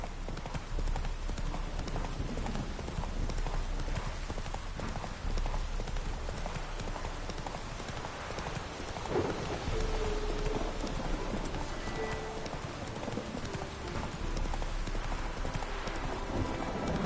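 In the Witcher 3 video game, the horse Roach trots with steady, rhythmic hoof clip-clops over a constant patter of rain, faint and close, with a brief voice partway through.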